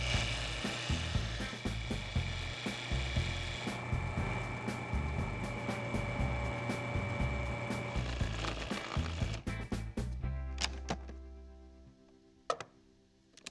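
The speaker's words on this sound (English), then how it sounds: "now I can turn the food processor on and let the dough come together." Food processor running to bring a cheddar shortbread dough together: a steady mechanical whir with rapid ticking and rattling, close and continuous, then cutting off near the end with a few clicks.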